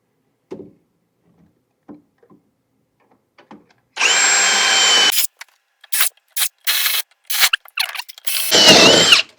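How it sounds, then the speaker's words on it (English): Drilling 5/16-inch holes through existing holes in a replacement lathe part, with a power drill whining in a sustained burst and then several shorter bursts after faint handling noises. "I just drill through the existing holes."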